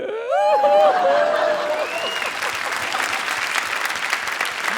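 Studio audience applause on a Hindi stand-up comedy show, a dense steady wash of clapping that swells at the start and holds loud to the end, with brief tonal sounds and voices rising over it early on.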